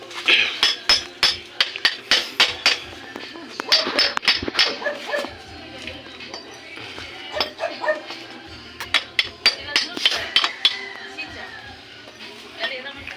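A hammer taps repeatedly on a motorcycle's rattling brake rubber damper, sharp metallic knocks coming in quick uneven bursts close by, with people talking in between.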